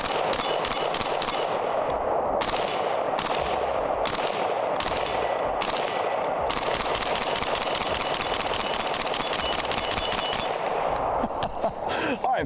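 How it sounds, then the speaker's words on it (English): Rapid gunfire from a Steyr AUG A3 bullpup rifle, a dense run of loud sharp cracks in quick bursts lasting several seconds, with brief gaps before the shooting stops near the end. "All right, let's start it off with the OG bullpup here."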